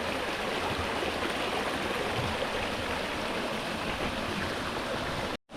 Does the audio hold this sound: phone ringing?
no